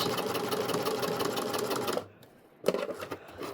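A sewing machine stitches a half inch bottom seam on a small fabric credit card wallet, running in a fast steady close whir for two seconds, then stopping, followed by a few soft clicks and a brief restart.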